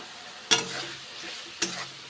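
Pointed gourd being stir-fried with salt and turmeric: two sharp spatula knocks against the pan about a second apart over a soft sizzle.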